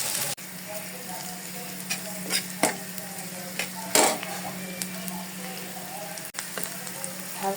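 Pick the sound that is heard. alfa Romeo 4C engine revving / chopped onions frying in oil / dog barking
chopped onions frying in oil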